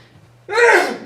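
A single loud, close sneeze bursts out after a moment of quiet room hum during a board meeting.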